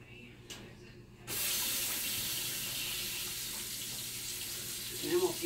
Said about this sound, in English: I've got to go wash my hands.